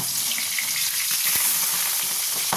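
Pabda fish fry in oil on their second side, making a loud, close, continuous crackling sizzle with no voices.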